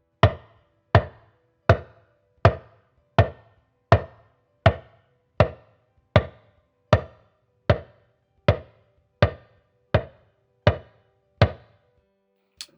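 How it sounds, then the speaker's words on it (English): A talking drum struck for its low tone with the tension cords uncompressed, in a steady, even rhythm, about sixteen sharp hits with quick decay, played alone at moderate loudness. "the do tone is played with no compression on the tension chord"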